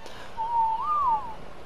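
A single sustained whistle command in ARK: Survival Evolved, a steady tone that rises in pitch midway and then falls away, clear and alone over faint game ambience.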